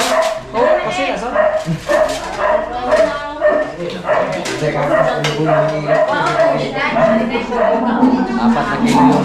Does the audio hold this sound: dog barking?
yes